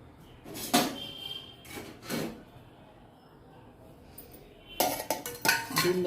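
A lid set onto a cooking pot while chicken pulao is prepared, heard as a few metallic clinks and clatters spread apart, followed by a cluster of louder clanks of cookware and utensils.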